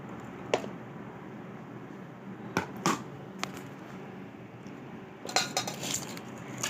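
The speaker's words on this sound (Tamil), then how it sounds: "இதை இப்போ நல்லா கிளறிப்போம்" A spoon stirs semiya vermicelli with cardamom in a metal pan, making a few sharp, scattered clinks and scrapes against quiet background.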